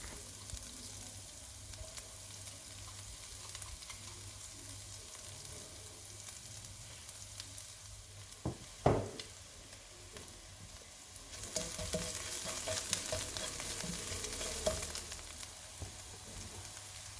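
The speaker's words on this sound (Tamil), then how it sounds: "கடுகு வெந்தயம் கொஞ்சம் பொரிஞ்ச பிறகு நான் முதலில் இடித்து வச்சுருக்கிற அந்த இன்க்ரீடியன்ஸை இதோட ஆட் பண்ணுறேன்" Pounded spices with mustard seeds, fenugreek and cumin fry in a pan for Sri Lankan crab curry, making a continuous soft sizzle with a single clunk partway through. The sizzle then swells louder and crackles.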